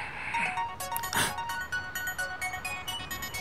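A phone ringtone chimes in a repeating electronic melody, fairly close and clear, with no talking.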